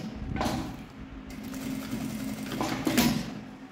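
A sewing machine stitches a synthetic leather bag strap in a short, close burst of mechanical whirring with faint handling sounds and no talk.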